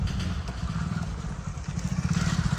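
A motorcycle engine rumbles steadily at idle or low speed close by, a continuous low throb with a slight rhythmic pulse throughout.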